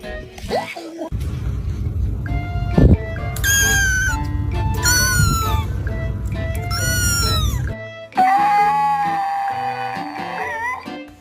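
A cat lets out several loud, drawn-out meows, one after another, close by, with a brief human sound between them.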